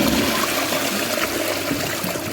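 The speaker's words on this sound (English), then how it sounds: "each time you flush" A toilet flushing up close, a loud steady rush of swirling water that fills the whole moment without pause or voices.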